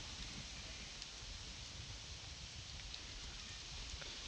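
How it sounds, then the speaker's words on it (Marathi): Light drizzle falling steadily over a groundnut field during the harvest, a soft even hiss of fine drops that continues without a break and with no voices. "आणि चिरचिर चालू आहे"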